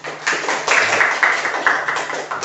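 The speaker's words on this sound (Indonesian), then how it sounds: "Berikan aplaus untuk kita semua" A group of students and teacher applauding together in a classroom, steady sustained clapping for a couple of seconds, fairly close and clear.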